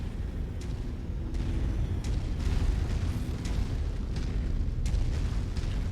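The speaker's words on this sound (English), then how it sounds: "Our Anyway. employer has okayed the use of airstrike on this mission." Airstrike explosions in a mech combat game pound out as a dense, rumbling barrage of booms and bursts, several sharp impacts rising over a continuous low roar, with no speech.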